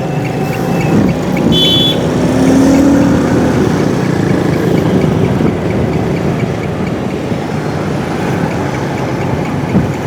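A motorcycle engine running steadily and loudly close by, developing a rattling note, with broadband road and engine noise throughout and no talking.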